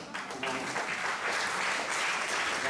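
Applause from an audience at a live stage show, a dense, steady burst of clapping that fills the moment with no talk over it.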